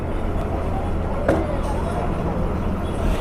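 A bus rolls into Sangameshwar bus depot with a steady, close engine rumble and road noise, and a faint voice is heard over it.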